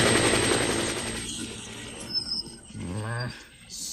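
A storybook helicopter sound effect at an airfield: a loud whirring rotor chop that fades away, followed by a brief swooping mechanical tone, alone without speech.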